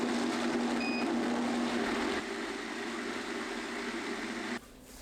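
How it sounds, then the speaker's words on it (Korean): A blender grinds boiled red kidney beans, pine nuts and bean cooking water into a smooth mix, a loud continuous whirring motor that steps down in level partway through and stops abruptly near the end. "믹서에 삶은 호랑이 콩, 잣 20g, 콩 삶은 물 300ml 넣고 곱게 갈아주세요."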